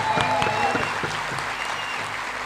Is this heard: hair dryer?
no